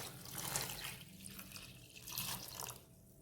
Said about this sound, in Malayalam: നേരത്തെ വെള്ളം ഒഴിച്ചു കൊടുക്കാം.